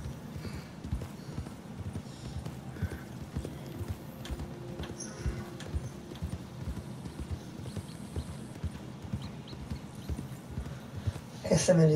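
A horse in the Red Dead Online video game gallops with a steady, rapid clip-clop of hooves for the whole stretch, and a louder burst comes near the end.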